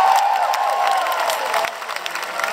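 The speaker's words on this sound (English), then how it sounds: "Give yourself a round of applause." A large arena crowd at a live concert in Verona applauds and cheers loudly, a thick wash of clapping and shouting that stays full and gradually thins toward the end.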